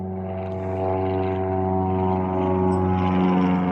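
Propeller airplane passing overhead, a steady droning engine with strong low harmonic tones that grows slightly louder through the clip, heard alone without talk.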